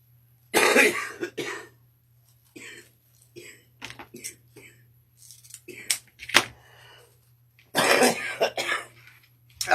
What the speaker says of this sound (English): I'm not going to be able to keep going with this cough